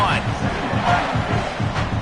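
A hostile stadium crowd roars at a football game, a steady loud wash of voices with a commentator talking over it.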